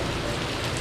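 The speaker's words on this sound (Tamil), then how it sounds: "இப்போ மழை அடித்து நவுத்துது" Rain falls steadily as a dense, even hiss, close by in a Penang street setting near a rented car, with no voices over it.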